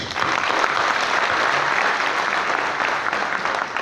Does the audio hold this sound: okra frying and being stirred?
no